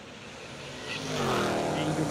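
Pulling truck engine, a 1500-class truck from Bluffton, Indiana fitted with twin 62 mm Precision turbos, revving up with a rising, strengthening roar over about two seconds, a voice talking over it.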